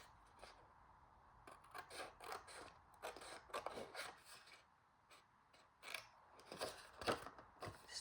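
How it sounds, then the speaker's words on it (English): Scissors snipping paper at an angle while shaping a mini expandable envelope gift card holder, a close, quiet run of short rasping cuts and rustles in irregular bursts with small pauses, no voices. "Just do a little angle cut."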